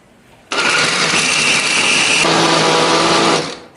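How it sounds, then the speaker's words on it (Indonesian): A kitchen blender grinds cooked spices for a holiday dish, starting abruptly with a loud, steady motor whir that shifts to a lower, heavier pitch partway through as the paste thickens, then winds down at the end. "Nah di sini aku menghaluskannya menggunakan blender."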